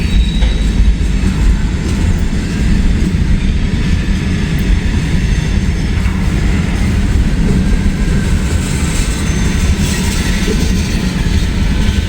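A long freight train carrying a Nickel Plate heritage unit rolls past in Hamilton, a loud continuous rumble of wheels and cars with faint squealing and clatter, steady throughout with no talk.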